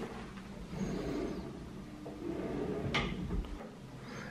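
Drawers in a 1960s-style hotel bathroom vanity slide open and shut, a muffled rumble followed by a sharp knock of the drawer closing, recorded nearby against a low room hum.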